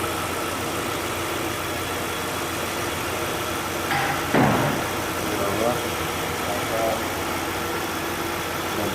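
A car engine idles steadily during ignition coil repair, a constant mid-pitched hum with a brief louder burst partway through, while a person talks over it.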